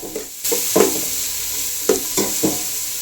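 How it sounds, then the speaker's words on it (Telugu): Chopped onions and green chillies stirred in hot oil in a home kitchen, a steady sizzle broken by several sharp scraping clanks of the spoon against the pan. "ఆయిల్ హీట్ ఎక్కిన తర్వాత కట్ చేసుకున్న పచ్చిమిరపకాయలు ఎనిమిది అలాగే చిన్నగా తరిగిన ఉల్లిపాయలు ఒక అరకేజీ కేజీ వేసుకుని కలుపుకోవాలండి బాగా"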